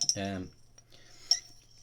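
Metal spoon clinking against a glass while adding drops of water to Glenfarclas 105 cask strength whisky, two bright short chinks close up with a brief tonal ring between them.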